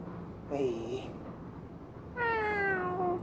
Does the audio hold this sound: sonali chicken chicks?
no